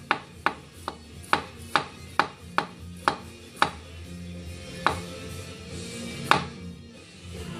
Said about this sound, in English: it's sharp enough to take a really thin slice of cauliflower off